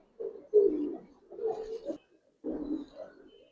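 Pigeons at a loft cooing in three soft, throaty bursts with short pauses between, close by and fairly quiet, without any talking.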